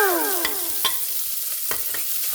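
Chicken feet fry and get stirred in a pan, giving a steady sizzle broken by several sharp scraping clicks of the utensil, while a falling, whistle-like tone sounds briefly at the start.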